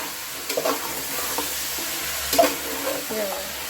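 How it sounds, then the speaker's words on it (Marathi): Mutton pieces with salt and turmeric frying in hot oil in a pot make a continuous soft sizzle, broken by a few louder scraping stirs of a spoon against the metal. "कसं गरम टोप आहे तेलामध्ये मटण बघा कसं पांढरं लगेच झालं"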